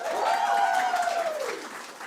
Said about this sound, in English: I would like you to give her a huge round of applause